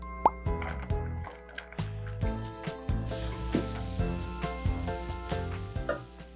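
Butter melting in a pan for fried rice gives a soft, steady sizzle with occasional plops and stirring sounds, accompanied by background music.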